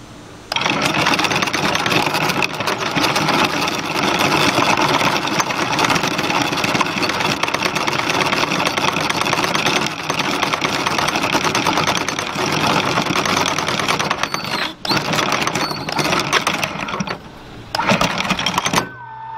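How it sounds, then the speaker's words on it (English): A boat's anchor windlass runs steadily with its clutch slipping, giving a loud, continuous mechanical whir with a brief dip near the end. "tap it again and watch the clutch slip"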